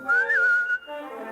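A person whistling a short melodic phrase in a Lux Radio Theatre production of Pinocchio, clear and close with a rising then steady tone, backed by soft orchestral music.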